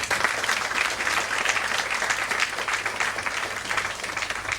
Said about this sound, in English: So let's clap for this moment once again.